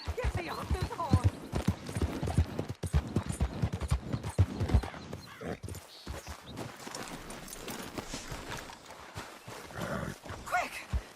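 Hoofbeats of a horse in Red Dead Redemption 2, a quick clip-clop rhythm running beneath ongoing talk, with a brief neigh and outdoor game ambience, growing quieter toward the end.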